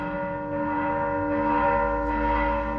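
Church bells ring with a steady, sustained tone that hangs in the air, continuous and moderately loud, with no voices over them.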